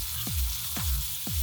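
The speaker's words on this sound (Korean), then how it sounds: "팬에 기름을 두르고 미리 만들어뒀던 양념을 넣고 먼저 볶아줍니다" Seasoning sauce frying in an oiled pan for spicy stir-fried small octopus, a close crackling sizzle broken by three scraping spatula strokes at an even pace.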